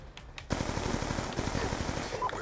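A PDW submachine gun firing in Black Ops 2, heard as a continuous rapid burst of close, loud automatic gunfire lasting a couple of seconds after a short quieter lead-in.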